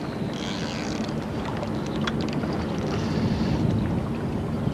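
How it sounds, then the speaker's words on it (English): A steady breeze blows across a gravel-pit lake during pike fishing, making a continuous broad rush of wind over the water with faint lapping and no talk. "This breeze is blowing a bit to the side now."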